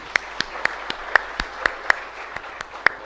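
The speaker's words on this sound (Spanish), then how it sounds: "así que un fuerte aplauso" Church congregation gives a short round of applause for a couple's 25th wedding anniversary at Mass, sparse, distinct claps at an even pace, fairly close.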